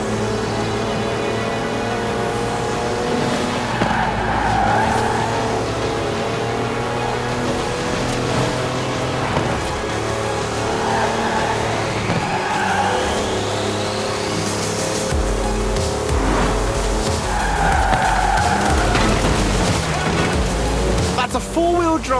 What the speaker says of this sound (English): A four-wheel drive car on mud tyres completely sideways.